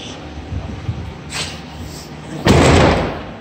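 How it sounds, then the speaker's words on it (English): Doors of a 2017 Ram ProMaster 2500 long-wheelbase high-roof cargo van are worked, giving soft thuds and then a loud, close slam near the end. "doors look good, open and shut right"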